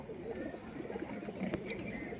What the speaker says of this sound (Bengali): তো দেখুন আপনারা এই যে এগুলো ওয়াদ কাকার পায়রা সব